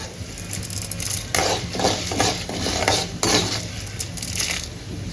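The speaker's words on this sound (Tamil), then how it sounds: "இன்னும் கொஞ்சம் சேர்த்து வறுக்கணுங்க" Urad dal roasting in a pan while being stirred, giving repeated scraping and rattling strokes of a spoon against metal over a low sizzle, fairly close and loud.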